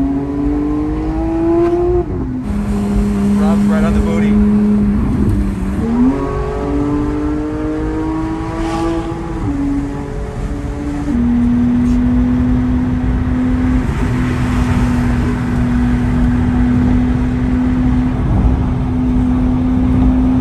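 A supercar accelerates hard, its engine loud and close, climbing through the revs with distinct gear shifts and then holding a strong steady drone, with no talking.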